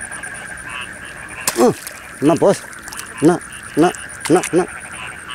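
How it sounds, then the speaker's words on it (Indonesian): Many frogs croak at night at the start of the rainy season, a string of loud, close, rasping calls in uneven bursts over a steady background of insects, with someone speaking briefly. "Telinga bising oleh suara kodok bos."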